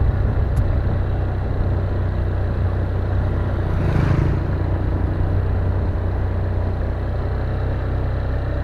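Steady rumbling drone of a motorcycle ridden along a quiet village road in rural Tabanan, Bali, loud and continuous with wind rush over the microphone and a brief swell midway.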